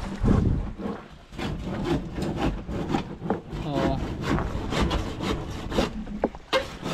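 A hand saw cuts through wood in repeated rasping strokes with an uneven rhythm, close and fairly loud, with a few quieter pauses between pushes.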